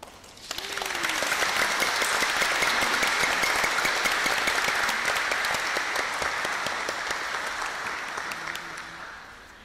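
A church congregation at a New Year's Day Mass applauds to welcome first-time visitors, a full, sustained round of clapping that swells quickly, holds steady for several seconds, then slowly tapers off.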